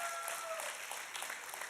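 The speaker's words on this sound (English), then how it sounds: "So let's give him a hand clap." A church congregation claps for their pastor's birthday, a steady wash of many hands throughout the short stretch, fairly even in loudness with no voices standing out.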